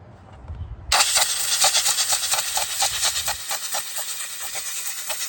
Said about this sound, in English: Got this sprayed out with air